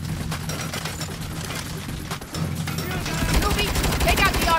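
Turret gunfire rattles in the Saints Row video game, with rapid repeated shots that grow denser and louder toward the end, under a busy mix of game noise and voices.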